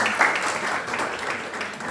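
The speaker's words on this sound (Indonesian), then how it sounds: "Tepuk tangan buat Tuhan." Audience applause from a church congregation during a sermon, steady and fairly loud, with brief overlapping talk.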